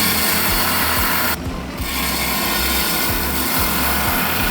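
A lapidary trim saw cuts through beach rock, its steady loud grinding whine dipping briefly partway through before biting back in with rhythmic scraping.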